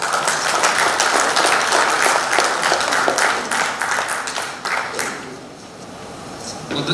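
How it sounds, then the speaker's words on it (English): Conference audience at an inaugural function applauds Phil Baker, chairman of the Silver Institute USA: a full burst of clapping that thins out toward the end. "Let's give a resounding applause to Mr."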